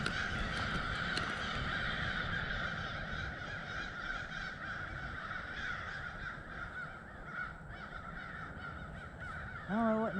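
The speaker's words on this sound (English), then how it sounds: "Those crows are going nuts" Crows caw loudly and repeatedly among the trees of the Paynes Prairie forest, a busy chorus of harsh calls over quiet woodland ambience, with someone talking faintly.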